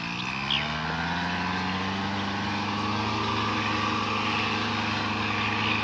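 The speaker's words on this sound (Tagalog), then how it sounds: "Tapos na mag-spray at mag-grass cutter muna si kapartner." A grass cutter runs steadily in a calamansi orchard, its engine a continuous droning hum with a strong low tone that holds nearly constant throughout, moderately close and with no voices.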